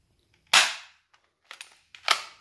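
A manually cocked Glock-style gel blaster that feeds 7 mm gel balls from a magazine fires one sharp, loud pop, then gives a pair of light clicks as the slide is racked by hand, and fires a second pop.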